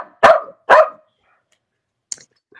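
A dog barks twice at close range in a quiet indoor setting, two sharp, loud barks about half a second apart, followed by a faint small yip after a pause.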